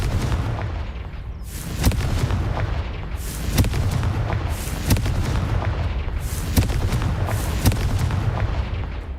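Repeated booming blasts from the Confringo fire-explosion spell in Hogwarts Legacy, loud sharp bursts landing every second or so over a continuous rumbling background.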